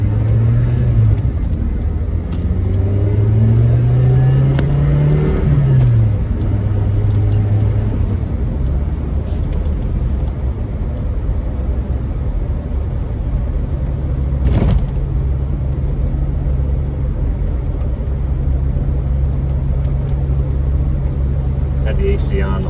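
A 1990 Saab 900 Turbo SE Monte Carlo Yellow cruises along with a steady, close cabin rumble of engine and road noise. An early rising-and-falling tone follows shifts, there is a sharp knock midway, and talk runs over it.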